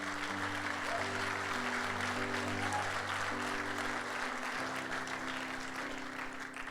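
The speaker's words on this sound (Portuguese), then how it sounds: "Vamos dar um aplauso a Jesus?" A church congregation at a pastors' gathering claps for Jesus, a continuous bed of many hands applauding under steady low tonal sound from music or a hum, sustained with little change.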